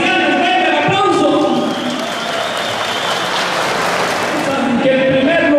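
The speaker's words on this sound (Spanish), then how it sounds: "Si ustedes quieren que el primer lugar sea para Rancho Los Sebastianes, venga el aplauso." A large jaripeo crowd at a Chicago rodeo tournament bursts into sustained, loud applause mixed with cheering and whistles, a dense roar of hands that holds steady throughout, with voices and music woven underneath.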